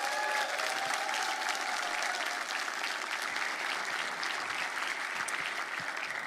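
Audience at a Praise With the Pros event applauding and cheering steadily and loudly to welcome a speaker to the stage, a dense continuous wash of clapping with no talk over it.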